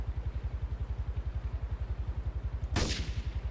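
A single gunshot fires in the video game GTA 3, a sharp loud burst cutting through a steady rhythmic engine-like throb that pulses throughout.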